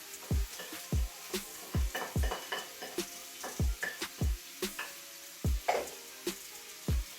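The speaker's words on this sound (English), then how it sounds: "So I'm just going to give that a stir round." Tomatoes, peppers and spices stirred in a pan: repeated close, sharp utensil scrapes and knocks against the pan over a low, constant sizzle, with no talking.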